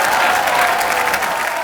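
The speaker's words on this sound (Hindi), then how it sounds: "तालियां।" A studio audience at a Hindi comedy talk show breaks into loud, sustained applause, a dense, even roar of clapping with a little crowd noise and no talking.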